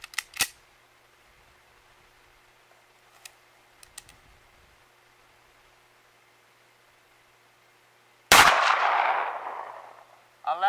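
A Beretta 92FS 9mm pistol with a 5-inch barrel fires S&B 115 grain FMJ rounds over a chronograph: a few faint clicks, then one loud, sharp shot with a long decaying roar and a quieter burst just after.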